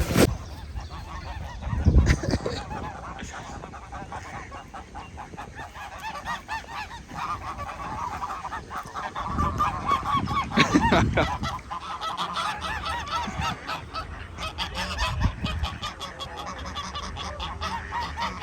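Ducks quack in loose bursts over a background hum, honking calls rising and falling at moderate distance with quieter gaps between.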